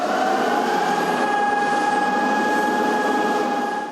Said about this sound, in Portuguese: Às 10 horas em ponto, as sirenes tocaram.